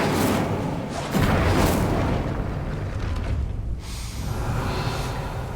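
An Incendio fire spell is cast in Hogwarts Legacy, producing a dense, sustained roaring rush of flame that swells sharply just past the first second and keeps surging with little letup.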